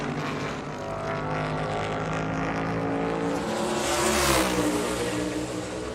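A NASCAR Cup Series race car on a qualifying lap at New Hampshire, its engine a steady loud drone that swells and rises in pitch as it nears around the fourth second, then eases slightly.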